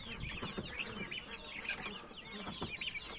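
Hens and roosters cluck steadily and overlap in a busy poultry enclosure, with a dense, continuous chorus of close and mid-distance calls and occasional wing flaps.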